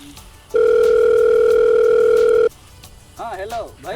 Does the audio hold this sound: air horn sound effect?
no